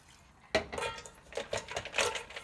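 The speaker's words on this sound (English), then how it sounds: "I'm going to put some ice in the larger bowl and some water to make an ice bath" Ice cubes and water going into a large bowl to make an ice bath for cooling pastry cream, heard as a sudden clatter and splashing of cubes against the bowl, then several shorter knocks and sloshes, close and fairly loud.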